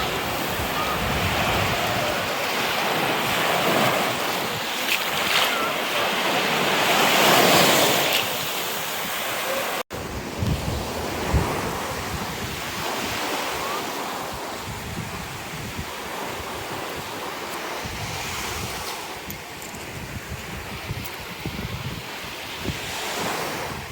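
Sea waves break on the Odesa shore while wind buffets the microphone, a loud continuous surf rush with gusty low rumble across the whole stretch and no voices.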